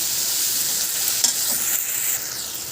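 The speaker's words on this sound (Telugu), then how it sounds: "టమాటా బాగా ఫ్రై అవ్వాలి." Tomatoes fry in oil in a pan, a steady, close, bright sizzle with faint stirring scrapes throughout and no voices.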